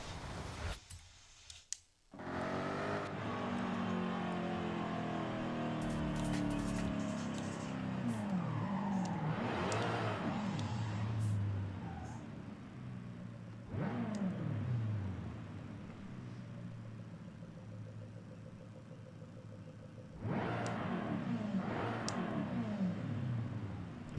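A 2015 Jaguar F-Type R Coupe in Forza Horizon 5 revs hard and climbs through the gears in repeated surging sweeps, with short shifts between pulls. The engine sounds loud and close with no talk.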